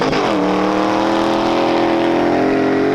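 Off-road car driven by a professional driver over desert dunes, a loud close engine drone that settles into a steady high rev and holds for several seconds, with no talk.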